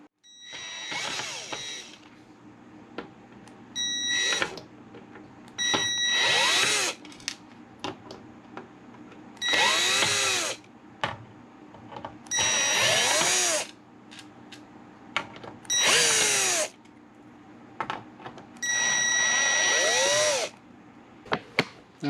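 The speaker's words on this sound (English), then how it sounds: "Let's go ahead and remove these 8 screws." A power drill backs screws out of 80mm computer case fans: repeated whirring bursts a few seconds long, rising and falling in pitch as the motor spins up and down, separated by quiet pauses, close and clear.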